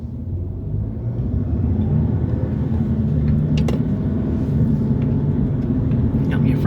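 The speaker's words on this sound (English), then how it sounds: "Got me a Freightliner behind me." A Freightliner truck rolls along behind on the road, a steady low engine and road rumble that stays loud throughout, with faint speech-like sounds in the background.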